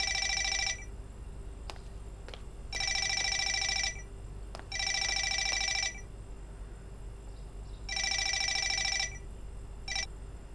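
A mobile phone rings in repeated bursts of electronic tones, four longer rings with short pauses between and a brief fifth chirp at the end, fairly clear in a quiet room with no talking.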